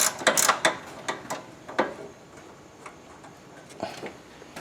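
A 10mm flex-head ratcheting wrench works on a Firebird Trans Am or Corvette headlight motor, giving quick bursts of crisp clicking that come in uneven clusters, close and fairly quiet.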